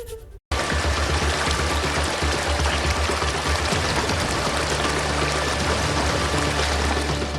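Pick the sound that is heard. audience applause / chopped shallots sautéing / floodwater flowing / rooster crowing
floodwater flowing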